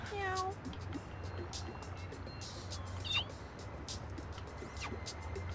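A cat meows several times in the No More Heroes video game, with short rising cries near the start and again around the middle, heard over a steady low game hum and background ambience.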